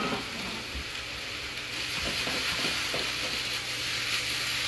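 Zucchini, squash, onions and Roma tomatoes sauté with salt in garlic oil, making a loud, continuous sizzle broken by occasional soft clicks of stirring; no one talks.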